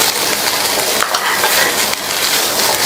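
Boiled beans and carrots are stirred in a frying pan for a Tamil poriyal, a steady loud sizzle and frying hiss with scraping and tossing, close up and without talk.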